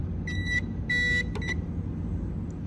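A Noritz tankless water heater's control panel gives a few short electronic beeps, two longer tones followed by quicker chirps, then falls quiet over a low background hum.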